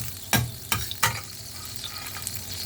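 Butter sizzling in a frying pan, with a steady close crackle broken by three sharp scraping or stirring bursts early on, then a quieter continuous fry.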